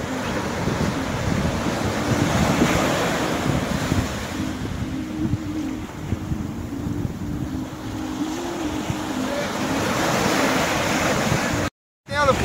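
Ocean surf washes steadily at Boa Viagem beach in Niterói during shore fishing, a constant windy roar of breaking waves with occasional faint voices and a brief dropout near the end.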